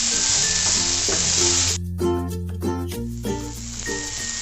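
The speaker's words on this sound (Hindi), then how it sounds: "इन आलूओं को हम हमारे मिश्रण के साथ अच्छी तरह से मिक्स कर लेंगे।" Boiled potatoes stirred into a sizzling tomato mixture in a pan for a fasting-style masala dosa filling, a steady hot frying hiss with soft stirring under continuous background music.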